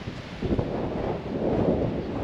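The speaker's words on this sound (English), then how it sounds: "Ooh, and the wind is really picking up now." Strong outdoor wind buffets the microphone during a Jeep and Bronco drive, a continuous low rumbling roar that swells and stays loud throughout, with no talking.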